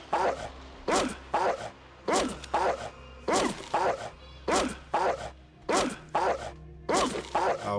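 A dog in Fallout 2 barking in regular sharp bursts, roughly a dozen yaps evenly spaced over a low steady background hum.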